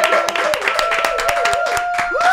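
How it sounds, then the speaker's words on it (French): A crowd clapping steadily with a sustained tone running underneath, dense and fairly loud for the whole stretch. "Les gars, on applaudit très très fort pour ça"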